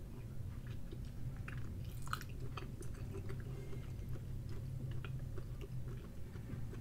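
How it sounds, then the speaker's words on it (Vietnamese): Japanese Kyoho grape jelly is bitten and chewed up close, with soft, wet, squishy mouth sounds and small crunchy clicks repeating steadily and no talking. "mình sẽ cắn thử coi bên trong nó như thế nào á"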